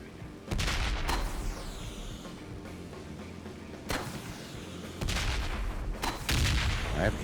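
An RPG rocket launcher firing rockets in Ride to Hell: Retribution on Xbox 360, with several loud booming launches and blasts in quick succession over a dense, rumbling battle din.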